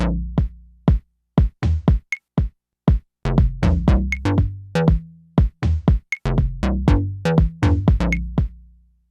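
Electronic drum pattern layered with a plucky synth in a Noise Engineering Batverb demo, punchy rhythmic hits and short decaying notes in a busy, steady groove, dry and close.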